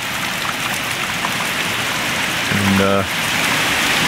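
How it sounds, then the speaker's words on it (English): Heavy rain pours steadily during a hurricane, a dense continuous hiss of drops on surfaces, close and loud, with a short tonal sound near the end and a brief spoken word. "I think we're at about 10 inches of rain now."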